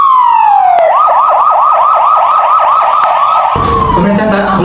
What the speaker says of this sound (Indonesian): Sirine ambulan terdengar dari kejauhan menuju lokasi kejadian